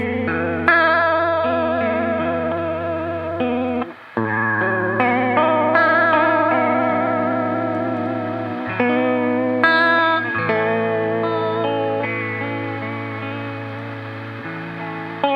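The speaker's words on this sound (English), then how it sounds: "So now we're creating kind of a bandpass filter by rolling the high end off." Sustained, chorused synth chords run through a bandpass filter with the high end rolled off, giving a muffled, mid-heavy tone; notes change at a steady pace with a brief dropout near four seconds and no talking.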